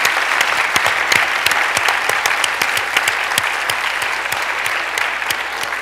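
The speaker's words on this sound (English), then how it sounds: "So if you would give him a round of applause," Steady audience applause at a public conversation event with a U.S. senator, many hands clapping evenly with sharp individual claps standing out, sustained at an even loudness throughout.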